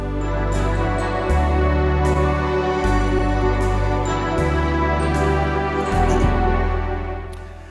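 Sustained organ-style strings preset on a keyboard, a rich layered pad moving through slow chord changes with a steady bass line and light rhythmic ticks on top, loud and alone with no talking.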